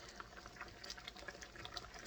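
Sausage, rice and vegetables simmer together in one pot, with soft, steady bubbling and small popping blips throughout.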